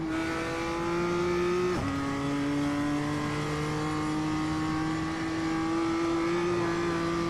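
A racing car engine in iRacing drones at high revs, loud and constant, with one brief dip as the pitch drops and climbs again, like a gear change into third.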